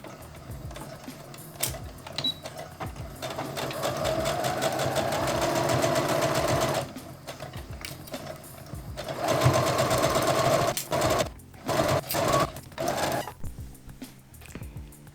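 A sewing machine stitches a button placket onto a fleece jacket, running in steady bursts of fast mechanical whirring that stop and restart, ending with several short stitching runs close by.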